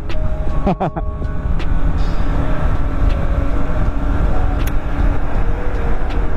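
A Honda CBR250RR motorcycle rides steadily in fourth gear, its engine drone and wind rush loud and continuous throughout, with a brief shift in tone near the start.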